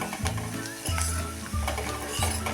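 Garam masala and asafoetida sautéing in a pan, a steady sizzle broken by stirring scrapes and light clinks of a utensil against the metal, with music running underneath.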